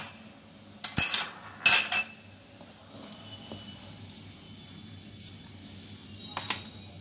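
Spoon clinking against a bowl while chaat masala and black pepper are stirred together for a moong dal dish: two quick bright clatters early, then soft scraping and one more clink near the end, close and fairly quiet.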